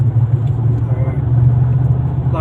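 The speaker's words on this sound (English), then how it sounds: "that was quite a bit of traffic. I've got 4 motorcycles and a car." Road traffic in Bohol, Philippines, with motorcycles and a car, a loud steady engine rumble close by.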